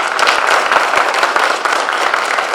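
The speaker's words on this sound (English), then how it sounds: "let's have a round of applause for everyone." An audience at a civics bee competition breaks into a round of applause, with loud, continuous clapping from many people and sharp individual claps standing out throughout.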